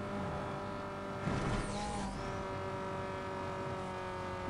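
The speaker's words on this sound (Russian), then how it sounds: "Не раскручивается движка." A Chevrolet Cobalt's tuned engine in Need for Speed Most Wanted strains at a steady high drone without climbing, with a brief whooshing swell midway, moderately quiet and continuous with no talk.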